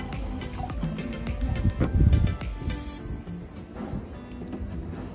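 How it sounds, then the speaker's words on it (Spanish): Water poured into a small homemade hydroponic wick planter made from a glass, a steady close trickle and splash with gurgling drips throughout. "Luego agregamos agua."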